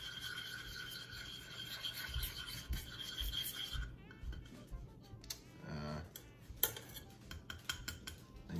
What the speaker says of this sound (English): We're gonna go ahead and whisk that together.